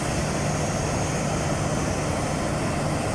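Airliner being moved from its parking position toward the runway, a steady broadband engine roar with a low hum, continuous and fairly loud with no talk.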